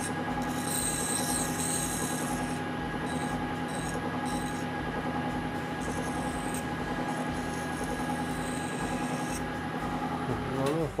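Hand file rasping steadily across a metal puck in a workshop, a continuous loud scraping texture with regular stroke rhythm lasting throughout, with no voices.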